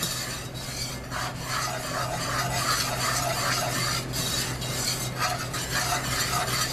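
Homemade brown dry gravy mix being whisked in a pot: a steady, close scraping and swishing of a whisk against the metal that keeps going, with a faint sizzle underneath and no talking.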